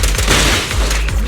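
Rapid gunfire rings out in Zenless Zone Zero, a dense run of loud booming shots packed tightly together across the short stretch, with no talk over it.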